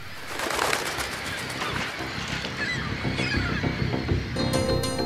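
Puffins and other seabirds calling across a crowded island colony in Iceland, a dense, continuous chorus of honking, cooing calls overlapping throughout.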